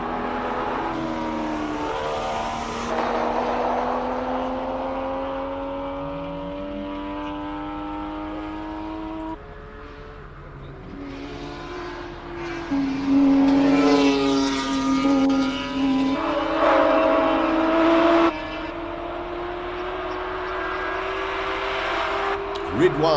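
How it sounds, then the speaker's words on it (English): Race cars in the A5 category powering up the Simola hillclimb track, engines revving loudly with rising pitch through the gears, several cars overlapping, under fast live commentary. "Sean McKay and Dayan Padiachi out on track, both in the A5 category"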